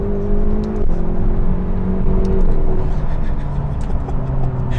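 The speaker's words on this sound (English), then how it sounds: "And even with this opened up exhaust here, basically no rear muffler." A McLaren GT's V8 with an opened-up exhaust and almost no rear muffler drones steadily and loudly, its pitch shifting slightly as it revs, with a continuous low rumble throughout.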